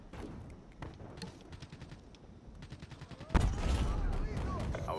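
An XPR gun fires in a video game: rapid bursts of shots crackle in quick succession, building to a louder, denser volley near the end, with occasional faint voices.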